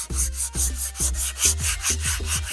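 A wooden gunstock-style war club is hand sanded with 150-grit sandpaper along the grain, making a steady rhythm of close, raspy back-and-forth rubbing strokes about twice per second, with no voices.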